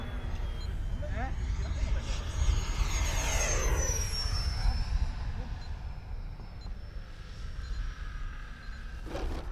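A racing F4U Corsair radio-controlled airplane comes in to land, its engine a steady loud drone that sweeps past in pitch, heard under people talking throughout.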